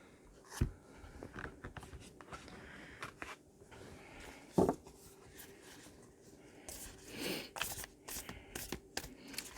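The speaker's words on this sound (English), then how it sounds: "I just think the shuffling is relaxing and kind of meditative." Tarot cards shuffled by hand in a quiet room, a soft recurring riffle and slap of cardstock with a few sharper taps, close and fairly faint.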